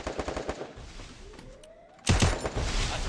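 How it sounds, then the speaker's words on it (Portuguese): Rapid bursts of automatic gunfire in an online shooter video game, a fast rattling volley, a brief lull, then another loud sustained burst at close range. "Um tiro, Serol."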